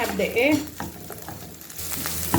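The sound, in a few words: stirring minced meat frying in pan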